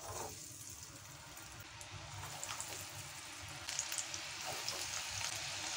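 Corn for crispy corn fries in hot oil in a pan over a medium flame, a steady soft sizzle and crackle that rises slightly partway through.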